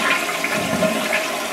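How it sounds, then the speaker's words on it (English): A big old toilet with a newly repaired fill valve flushes loudly and close up, a continuous rushing swirl of water with no voices. "Let's give it a flush."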